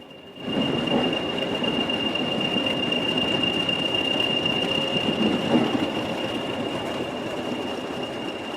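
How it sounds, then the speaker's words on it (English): The Keighley and Worth Valley Railway's resident Class 20 diesel locomotive arrives at Ingrow and runs into the yard, a steady rolling rumble with a sustained high wheel squeal, close and continuous throughout. "The Keighley and Worth Valley Railway's resident Class 20 diesel locomotive arrives at Ingro and runs into the yard."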